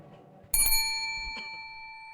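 A single bright bell rings at a provincial candidates forum to signal the end of speaking time, a sharp strike with a second tap and a long ringing decay.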